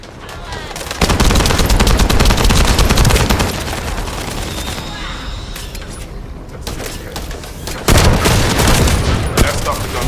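Bursts of automatic gunfire from the video game The First Descendant, loud and sustained, easing into a quieter stretch of scattered shots before another heavy volley near the end.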